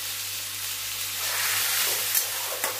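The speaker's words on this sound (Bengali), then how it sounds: "আর কড়াই যখন এরকম সব রঙের সবজি দিয়ে ভাজি" Mixed vegetables (beans, carrot, capsicum, onion, potato) fry with salt in hot oil in a wok, making a steady close sizzle with scraping stirs and a couple of sharper clinks near the end, and no voices.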